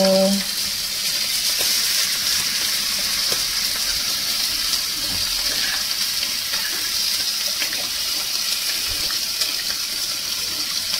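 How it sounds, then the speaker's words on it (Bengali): Water poured into a pan of frying catla fish curry base, a steady broad rush and sizzle running the whole time with faint clinks, loud and close, with no talk. "এবার কিন্তু আমি জল দিয়ে দেব"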